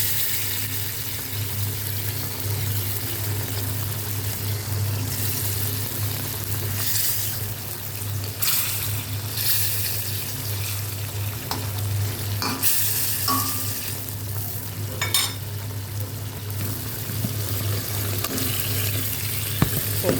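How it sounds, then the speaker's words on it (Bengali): Pangas fish pieces fry in spice paste in a pan, a steady close sizzle with occasional scraping stirs and a low hum underneath, continuous throughout. "আমি এখন এর মধ্যে মাছগুলো দিয়ে হালকা কিছুক্ষণ কষিয়ে নেব।"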